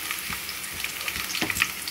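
Onions drop into hot oil already crackling with tempering spices, a soft close sizzle with scattered light pops and stirring scrapes.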